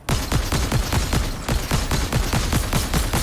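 A thermal DMR in Fortnite Chapter 4 Season 4, used with the steady hands perk, fires a rapid, even string of loud, close shots. Around fifteen cracks come in quick succession with no pause.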